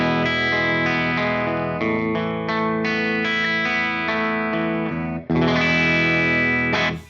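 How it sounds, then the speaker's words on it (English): Clean electric guitar played through the bridge pickup of an EVH SA-126 Special, a higher-output pickup that's not fully clean, ringing chords strummed steadily with a brief gap near the end, with effects coloring the tone. "I'm now going to be playing the clean sounds on the bridge pickup"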